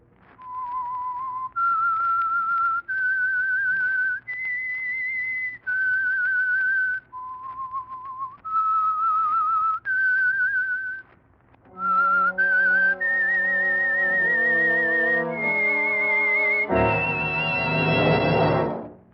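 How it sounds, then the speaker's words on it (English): A whistled tune of clear sustained notes in short phrases, rising and falling, ending in a fuller musical swell. "That whistle is your signal for the Signal Oil Program"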